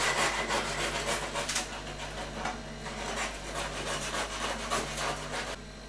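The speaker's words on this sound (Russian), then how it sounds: "сейчас я отрежу небольшой кусочек." A knife saws through a loaf of homemade bread, with repeated close rasping back-and-forth strokes in an uneven rhythm that taper off near the end.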